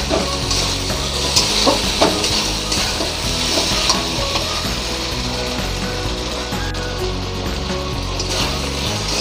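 Poppy seeds fry in a pan for a pumpkin flower curry, giving a steady close sizzle with repeated scraping and stirring clicks throughout; no one speaks.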